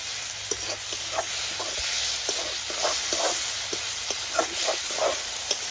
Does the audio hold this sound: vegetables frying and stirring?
yes